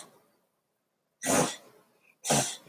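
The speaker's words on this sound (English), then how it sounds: "She's coughing." A woman with a cold gives two harsh, close coughs about a second apart, each a short raspy burst following a quiet pause.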